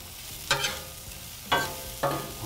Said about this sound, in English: let's check on our onions real quick and give those a toss